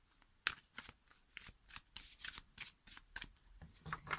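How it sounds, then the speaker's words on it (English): Tarot cards are shuffled in a quick series of soft riffling flicks and slaps, close by and fairly quiet, with no talking. "as I'm shuffling the cards"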